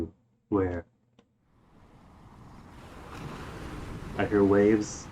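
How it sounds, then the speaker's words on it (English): Atlantic ocean waves, a stock surf sound effect, swell up from quiet into a broad rushing wash that builds toward the end, with brief bursts of voice before and over it. "I hear waves. The old Atlantic wave sound effect."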